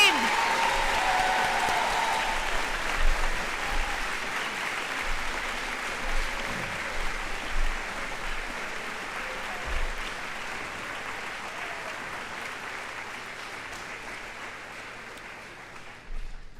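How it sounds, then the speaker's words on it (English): Sustained applause rolls through the audience at a junior high school moving-on ceremony, a broad steady clatter of many hands with a few louder thumps, slowly fading toward the end. "let's give one more big round of applause for all of the Explorers team."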